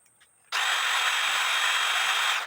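A power drill spins up loud and steady at close range, cleaning beading-wax-clogged holes in an antique Black Forest wooden plate cuckoo clock case with a toothpick, running continuously for about two seconds after a quiet start.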